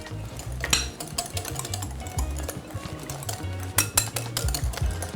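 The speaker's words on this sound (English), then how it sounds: "Got some salt, white pepper, and some lemon zest. Whisk all of that in." Salt, white pepper and lemon zest are whisked into a warm sauce for crab Benedict, making quick rhythmic metallic clinks and scrapes of the whisk against the pan, close up and continuous without talking.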